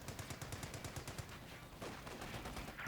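Anti-tank guns in a video game fire at a Sherman tank in a dense, rapid string of sharp reports that runs through the whole moment at moderate loudness, with a rumbling battle din underneath.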